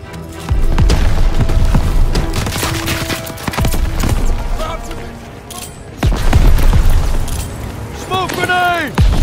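A grenade explodes in the World War II shooter game Call of Duty WW2, loud booming blasts mixed with gunfire and battle noise, with shouted voices over the chaos.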